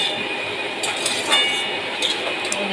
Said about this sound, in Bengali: এবার একটু আমি আলু গাজরটাকে একটু নাড়াচাড়া করছি।